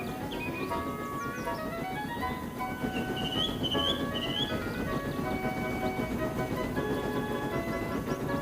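A steam engine hauling a goods train rumbles steadily along the line, with continuous low rolling noise and faint whistle-like tones above, no voices.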